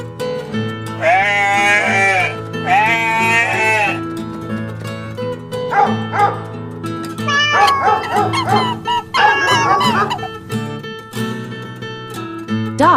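A goat bleats twice in long, wavering cries over a light musical backing, followed by shorter, choppier animal calls.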